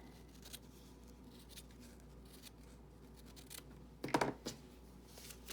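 Scissors trimming a fabric seam allowance for a quilt, soft close snipping and rubbing over quiet room noise, ending in a brief louder burst of cutting near the end.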